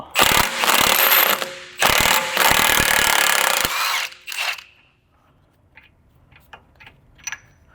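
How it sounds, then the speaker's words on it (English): A ratchet wrench loosens the front axle bolt on a VW MK5/MK6 during a front wheel hub replacement: loud, fast bursts of ratcheting for about four seconds, then a short burst and a few faint, scattered clicks. "But let's remove our axle bolt."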